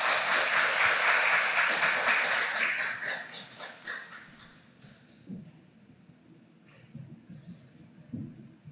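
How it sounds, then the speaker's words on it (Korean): A church congregation claps loudly and steadily during a worship service, then the applause thins out and fades, leaving scattered low sounds. "우리 하나님께 영광의 박수 올려드리십시다."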